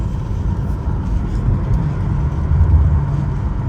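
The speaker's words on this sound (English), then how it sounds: "Y'all hear those burbles?" Low, rumbling exhaust from a BMW M8 Competition burbles steadily from inside the car, a dense, throaty drone that swells slightly toward the end.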